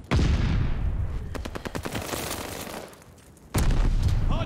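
Gunfire in a ranked video game match at a hardpoint: loud, dense automatic bursts with rapid, evenly spaced shots in the middle, fading briefly before another heavy blast of fire, with no voices.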